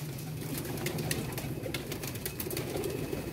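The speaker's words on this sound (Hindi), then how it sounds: "आज आपको कलंदरी कबूतर दिखा देंगे" Kalandari pigeons coo in a low, soft, continuous murmur nearby, with faint rustling and no speech.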